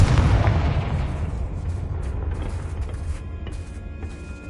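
Loud, booming explosion from the Confringo fire spell in the video game Hogwarts Legacy, with a heavy low-end blast at the start that rumbles and slowly decays over several seconds.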